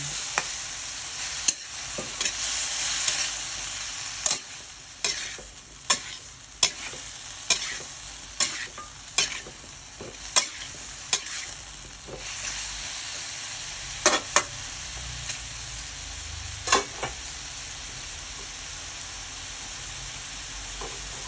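Mixed vegetables with mushroom, string beans and pork cooking in a pan, a continuous steamy sizzle punctuated by regular sharp spatula knocks and scrapes against the pan, close and fairly loud, with no talking.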